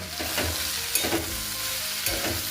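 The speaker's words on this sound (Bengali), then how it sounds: "চলো ভিন্ডিটা, এই সবজিটা যেটা কেটে রেখেছি এটা ভেজে নিই।" Chopped okra (bhindi) frying in a pan: a close, continuous sizzle broken by a few scraping stirs of the spoon.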